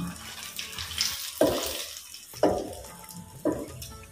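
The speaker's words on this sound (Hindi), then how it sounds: "हल्दी एक चम्मच पिसेड़ो दाणो सूखी लाल मिर्च मसाला न पकन देवा" Spices with turmeric, ground coriander and dried red chili masala cooking in a pan for Rajasthani ker sangri, giving a low steady sizzle broken by three sharp stirring scrapes at regular intervals, no talking.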